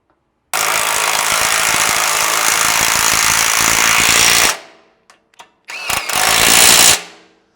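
A power tool tightens 14 mm bolts on a Toyota Tundra front winch bumper, giving a loud, close, rattling impact burst of about four seconds, then brief taps and a second shorter burst.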